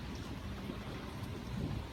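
A steady, dense roar of heavy rain during a thunderstorm fills the scene, constant and enveloping with a deep low rumble beneath it, and no one speaks.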